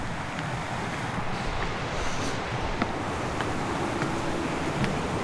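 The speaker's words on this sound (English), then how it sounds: "creek flowing very nicely" Cedar Creek in Arkansas runs full during flooding, making a steady broadband rush and wash of flowing water with a few faint clicks. It sounds moderately close and continuous, with no talking.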